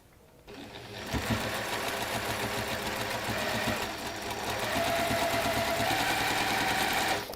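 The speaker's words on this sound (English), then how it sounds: "you're going to sew over that one and along here" A sewing machine stitches along marked lines on quilting fabric, its motor starting up after a brief pause, then humming and rattling loudly and steadily, close by and without talk.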